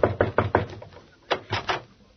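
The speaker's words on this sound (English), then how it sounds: "I'll knock on the door." Knocks on a dressing room door at a Palm Springs set: a quick run of four raps, a short pause, then three more, close and sharp.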